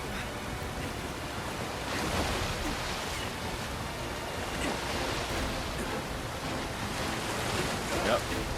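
Steady rushing water current in Final Fantasy VII Rebirth, a continuous broad wash of flowing water at moderate level with no clear breaks.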